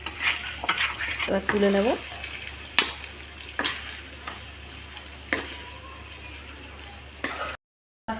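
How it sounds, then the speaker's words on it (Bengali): Garlic chicken frying in a pan, with a soft sizzle under repeated clinks and scrapes of a utensil stirring against the metal, and a brief spoken line near the start. "এবার আমি নাড়বো ভালো করে।"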